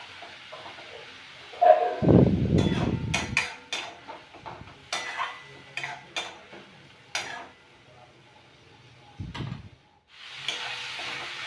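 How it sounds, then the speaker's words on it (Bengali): Spice masala being stir-fried with a little water, a burst of hissing sizzle followed by a run of irregular spoon taps and scrapes on the pan, close and intermittent, with no talking. "এবার ভালো করে কষিয়ে নিচ্ছি, অল্প অল্প জল দিয়ে কষিয়ে নিচ্ছি"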